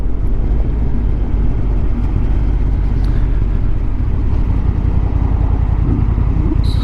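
A Honda NT1100 DCT motorcycle cruises on the road, steady engine drone blended with heavy wind rush, loud and continuous with no voices.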